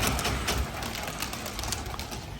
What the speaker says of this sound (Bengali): এক ধাপ করে ছাড়লে আমাদের কবুতরগুলা সুন্দরভাবে উড়ে